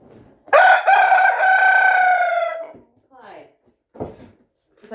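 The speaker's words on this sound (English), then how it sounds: "Who are you crowing for?" A rooster crows loudly and close by in the morning near a greenhouse, one long drawn-out call followed by a few shorter clucks and faint knocks.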